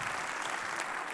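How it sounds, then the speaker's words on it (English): A crowd at a metaverse conference day applauds steadily, a dense wash of clapping throughout that stays loud and even without speech over it. "So a round of applause."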